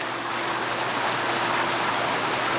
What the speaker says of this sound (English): The water's running along the bottom of these tubes